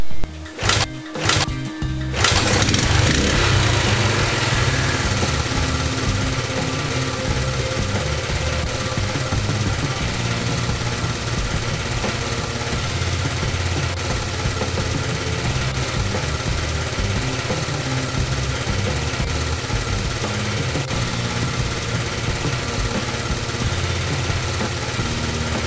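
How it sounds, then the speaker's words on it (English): A motorcycle engine, being checked for dynamic ignition timing with a timing light, cranks and catches with a few sharp bursts, then settles into a steady, close, droning idle that runs unbroken to the end. "Start the engine."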